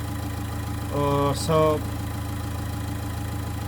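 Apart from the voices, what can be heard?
Nissan Note E12 1.5 dCi engine idling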